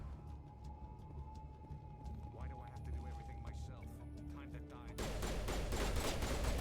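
Turret gunfire in the video game Mass Effect, with bursts of shots and impacts, louder after the first few seconds, mixed with game sound and a voice talking over it.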